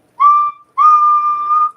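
A man whistles into a microphone during a live radio setup, two clear sustained tones, a short one then a longer held note, loud and close, with no talking.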